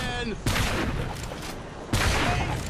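In the video game Orcs Must Die! 2, traps fire at oncoming orcs, two loud bursts of rapid booming gunfire-like blasts with rumbling tails, a brief tonal whine at the start.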